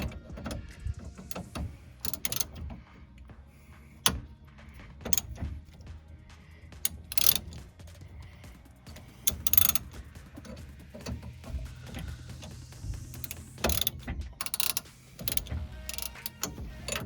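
A 17mm spanner works a nut on a control arm bolt of a Nissan 350Z, giving faint, scattered ratcheting clicks and metallic ticks at irregular intervals against quiet background hum, without speech.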